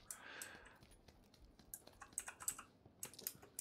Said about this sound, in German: Tastatur und Maus müsstet ihr hören.